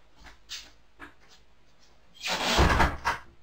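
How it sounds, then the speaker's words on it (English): A door swings shut with a loud, close thump and rattle after a few soft shuffling knocks, indoors in a workspace. "I'm closing the door."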